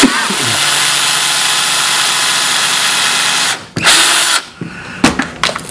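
A power drill whines loudly and steadily for several seconds, then stops, followed by a brief burst and a few short clicks and knocks.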